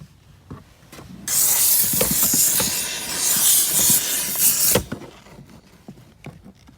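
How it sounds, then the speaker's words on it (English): A steam cleaner blasts a loud, broad hiss while steaming the mold-affected interior of a Nissan Rogue, starting abruptly and holding for several seconds before cutting off, with faint handling knocks and rubbing before and after. "we are back and we starting this steaming process again"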